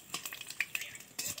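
Five-spice tempering crackles in hot oil in a pan for a pomfret fish curry, with soft intermittent sizzles, a few sharp pops, and light stirring scrapes.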